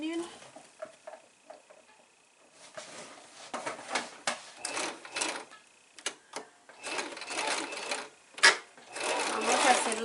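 A regular domestic sewing machine stitches a 5/8 shoulder seam in several runs of steady whirring, with short clicks and pauses between bursts, close to the listener.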